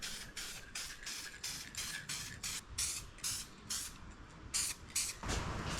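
Spray paint going onto a steering wheel in short bursts: about a dozen close hissing sprays with brief gaps between them, the last one held longer, and no one speaking.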